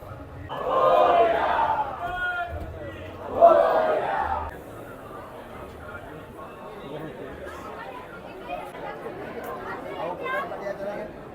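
Dense chatter of a large crowd at a temple in Mumbai during Ganpati festival, with two louder bursts of shouting voices early on, then a steady murmur of many people.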